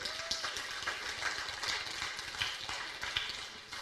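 Students clap together at a school recognition assembly, a steady dense patter of many hands that fills the room at moderate level, without talk.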